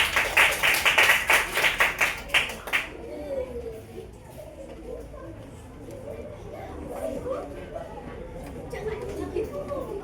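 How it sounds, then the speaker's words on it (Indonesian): Classroom of sixth-grade primary school pupils claps together in a rhythmic burst of quick, loud hand claps for about three seconds, then fades into quieter classroom chatter and shuffling. "Tepuk tangan untuk kelompok 4."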